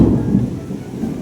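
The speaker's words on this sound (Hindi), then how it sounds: "भाई देखो बाहर बारिश हो रही है" Heavy rain and wind outside with thunder rolling through, a dense low rumble that swells, eases and then builds again over steady rainfall, all fairly close and loud, with no voices.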